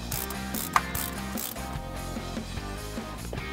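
Throttle cable fittings being tightened on a Quick Fuel EFI throttle body, giving a steady run of close ratchet clicks with one sharper metallic tick partway through.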